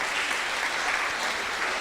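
An audience at a Bhagavatam class claps for someone, producing a steady, even wash of applause that stays at one level from start to finish.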